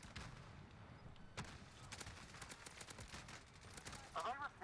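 Sniper rifle fire in Warzone comes as several sharp, moderately distant shots spread through a low battlefield rumble, with a short burst of faint chatter-like noise near the end.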